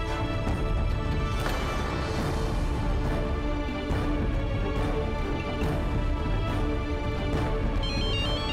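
A telephone ringtone plays continuously for several seconds, a loud melodic tune with repeating tonal phrases and rhythmic beats, heard alone without talk.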